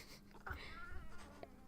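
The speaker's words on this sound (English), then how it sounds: "I think my kitty wants something from me." A pet cat meows indoors during a livestream, a short plaintive call heard close by over a faint background hum.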